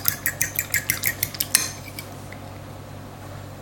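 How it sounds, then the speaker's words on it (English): Metal utensil stirring macaroni in a pot, a quick run of about ten sharp clinks and scrapes against the pot for a second and a half, then quiet with one last faint tap. "Stir that up a little bit. Make sure they're not sticking."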